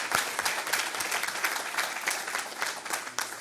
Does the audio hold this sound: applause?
yes